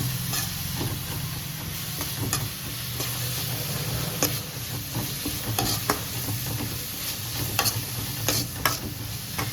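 Masala stirred and fried in a pan makes a constant hissing sizzle, broken by sharp scrapes and clicks of the spoon against the pan at irregular intervals, with no voices.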